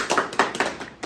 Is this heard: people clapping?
yes